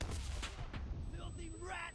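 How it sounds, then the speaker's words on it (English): Hand grenade blast and rifle fire in the World War II shooter game Enlisted: a dense run of close, loud gunshots and booming bursts with continuous battle noise underneath and a faint shouted voice. "Hand grenade! Get down!"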